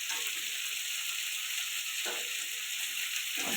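Salted potatoes stir-fried in a hot pan for a pointed gourd and rohu fish curry give a steady, close sizzle, with a couple of brief stirring scrapes breaking through near the end.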